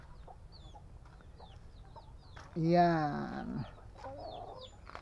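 A Buff Orpington hen and rooster, about six months old, give a loud burst of clucking calls midway, with someone speaking quietly before and after.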